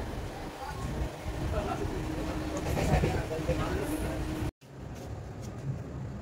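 A moving passenger train in India gives a steady rumble of wheels and carriage noise throughout, with a brief dropout near the end before the rolling sound resumes. Faint voices may sit in the background.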